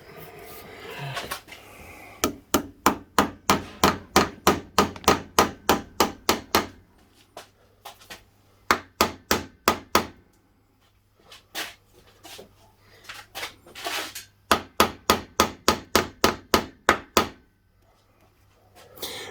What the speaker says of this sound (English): that's my smallest size hammer